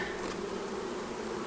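Honey bees buzzing thickly and loudly after a nuc box is dumped into a new hive, a steady dense swarm drone filling the whole moment with no talk.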